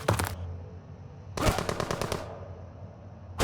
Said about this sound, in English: Oh, they have shotguns.